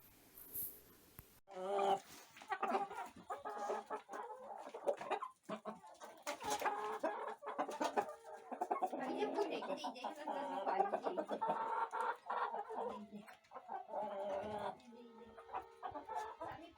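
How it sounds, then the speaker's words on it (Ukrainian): A rooster clucks and squawks repeatedly nearby as an old woman catches it, with flapping and scuffling, while people talk over the commotion. "Бабка ловить півня, щоб Анжелі на нове хазяйство."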